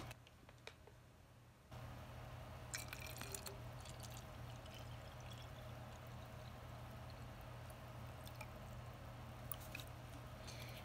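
Water poured into a homemade hair-growth oil blend of black castor oil, peppermint oil and jojoba oil, a steady close trickling pour running over a low constant hum for most of the clip.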